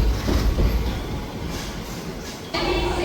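A Nagercoil–Chennai Central weekly train pulls into Madurai at night, its wheels rattling and clacking steadily over the rails with a faint squeal, and the noise rises abruptly near the end.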